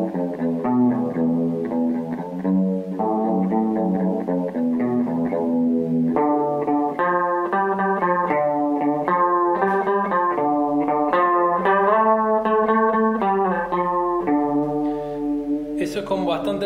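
An ordinary electric guitar played clean through a Smallclone chorus pedal, with the effect switched on: sustained chords and arpeggios shimmer with a wobbling chorus throughout, loud and close, with no talking.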